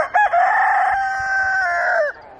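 A backyard chicken crows loudly and close in one long sustained call, trailing off at the end with faint background noise and no talk.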